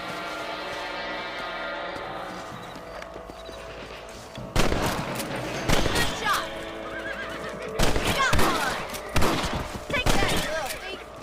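Rifle shots ring out in the Red Dead Redemption video game, several sharp loud cracks scattered over the latter half, mixed with a horse whinnying and hoofbeats, while someone talks nearby.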